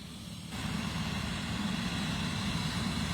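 Helicopter on the ground at Dan Jones Airport in Cypress, Texas after an emergency landing, a steady engine and rotor drone heard from a distance that swells slightly after the first half second, with no talk.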